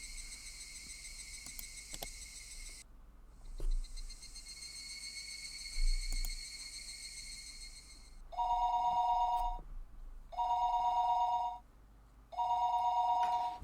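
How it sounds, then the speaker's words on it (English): An old-style telephone in a Higurashi When They Cry visual novel scene rings in three clear, evenly spaced bursts, following several seconds of loud, high insect chirping with a few faint knocks. "The phone suddenly rang."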